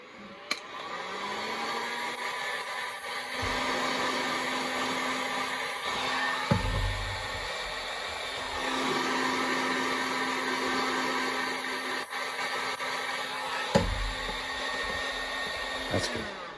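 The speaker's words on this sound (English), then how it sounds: "You can use a hair dryer." Hair dryer heating a plastic pinball playfield overlay, a steady whirring blow running throughout with slight shifts in tone and a few small knocks as it moves.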